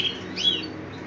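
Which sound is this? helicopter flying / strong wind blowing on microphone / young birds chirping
young birds chirping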